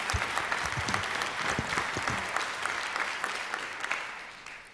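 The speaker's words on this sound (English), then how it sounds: "Clap for that." Audience applause fills a nursing school graduation ceremony, a steady wash of many hands clapping for nearly five seconds, sustained and even before tapering slightly toward the end.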